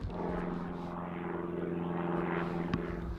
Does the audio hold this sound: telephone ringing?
no